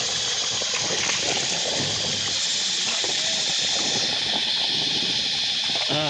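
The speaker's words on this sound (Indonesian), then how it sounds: "Di pos 1 ini ada mata air. Nih mata air." Mountain spring water flowing steadily at the first trail post on Mount Kawi, a continuous broad rushing and gushing that stays fairly loud and even throughout, with no talk over it.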